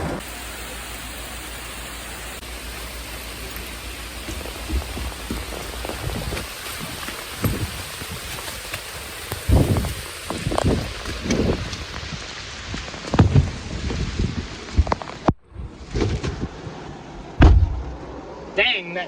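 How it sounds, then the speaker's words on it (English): Rain falling outdoors around a food delivery driver, a steady wash of drops with heavier spatters and thumps on nearby surfaces, close and fairly loud. "I gotta protect the food from this rain"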